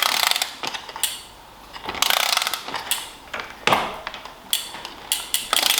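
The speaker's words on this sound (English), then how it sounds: "It's still crushing the crush washer" A bolt is ratcheted tight on a Giant Defy 2021 bicycle while fitting a Power2Max power meter, crushing a crush washer: short bursts of sharp ratchet clicks with brief pauses between strokes, close up.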